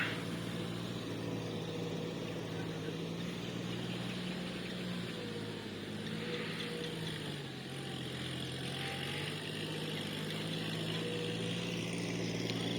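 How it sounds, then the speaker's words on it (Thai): A tractor tilling and churning soil in a rice field, its engine a steady, moderately distant drone with a low hum that dips briefly midway, running alone without talk. "ตอนนี้ก็ใช้รถไถนะครับในการตีดินนะครับ หรือว่าปั่นดินครับผม"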